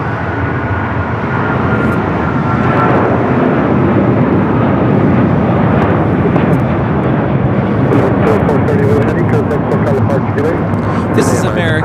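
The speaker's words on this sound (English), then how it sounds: "This is American Airlines 2431 taking off to Miami, Florida on the 777-200ER" An American Airlines Boeing 777-200ER thunders through its takeoff roll, a dense, loud engine roar that swells and stays strong, with people talking over it.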